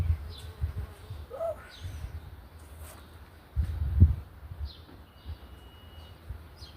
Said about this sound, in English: Ooh, the bee.